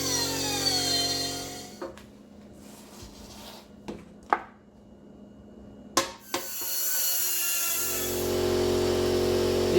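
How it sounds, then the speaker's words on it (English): A die grinder fitted with a carbide burr cuts holes in metal during a brake install on a 1972 Nova, a steady high whine that drops out and restarts with a few sharp knocks between. "use a carbide burr on a die grinder"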